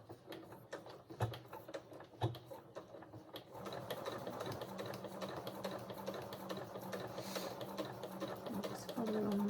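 A sewing machine backstitches along a dress pocket seam, starting with a few clicks and then running in a continuous, even whir to the end, fairly close.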